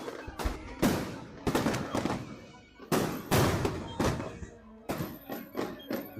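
Fireworks exploding at Carnaval Mazatlán: a string of sharp booms and bursts in irregular clusters, loud and fairly close, each blast trailing off with crackle and echo before the next volley.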